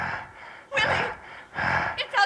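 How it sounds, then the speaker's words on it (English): Heavy, ragged breathing comes from just outside a door in a gothic TV drama: loud, rasping inhales and exhales in a slow, uneven rhythm, fairly close. "Do you hear that? Breathing. Who breathes like that?"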